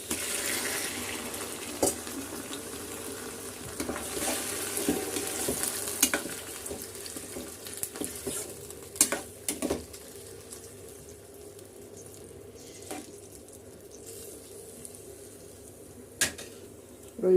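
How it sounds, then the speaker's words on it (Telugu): Prawns fry in a pan, giving a soft, watery sizzle with occasional scrapes and taps of stirring and a few sharper clinks, close but fairly quiet, with no talking. "వాటర్ అంతా బయటకు వచ్చేంత వరకు మనం వేయించుకుందాం"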